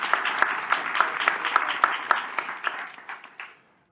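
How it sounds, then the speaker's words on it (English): An audience at an evening talk on artificial intelligence applauds the speakers, a lively patter of clapping that thins into a few last separate claps and fades to quiet. "a warm round of applause for our speakers"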